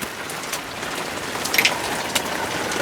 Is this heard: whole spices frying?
no